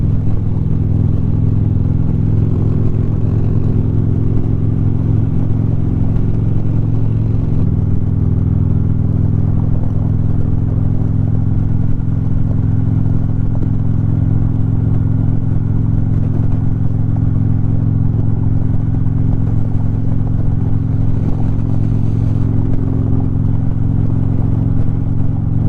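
A steady, loud Harley-Davidson motorcycle engine rumbles continuously, with a low throbbing idle and a slight shift in pitch partway through.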